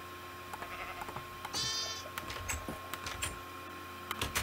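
A short Minecraft sheep bleat sounds once amid soft clicking taps like keyboard typing, all fairly quiet and close.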